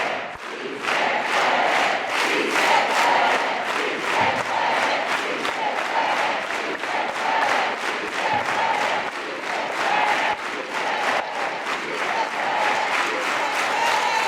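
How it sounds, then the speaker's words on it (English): Crowd at an organizing rally chanting "sí se puede" in unison over a steady, organized rhythmic hand clap, loud and continuous with regular beats throughout, voices blending into a massed chant. "let's do it all together with an organized hand clap"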